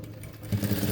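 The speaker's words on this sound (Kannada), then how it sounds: "ಈಗ ಫೋಲ್ಡ್ ಮಾಡಿ ಇದ್ರ ಮೇಲೆ ಒಂದು ಟಾಪ್ ಸ್ಟಿಚ್ ಹಾಕೋಣ." A sewing machine puts a top stitch along a folded blouse neck, its motor hum close and steady, growing louder and busier halfway through the short burst.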